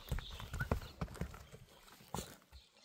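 Hooves of a purebred Kyrgyz horse clip-clop in a few close, uneven steps, fairly quiet against light outdoor background noise.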